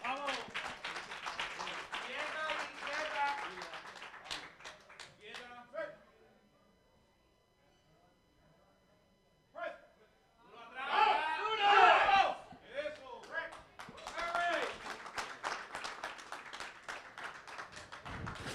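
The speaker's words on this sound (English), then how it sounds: "Give her a round of applause." Audience at a bench press championship breaks into scattered clapping and cheering after an announcer speaks over the hall, followed by a quiet pause and more clapping beneath continued talk.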